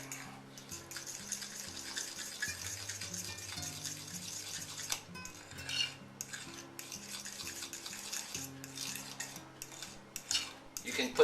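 A spoon clinks and scrapes against a bowl while Chinese BBQ sauce ingredients are stirred together, light irregular taps under soft background music.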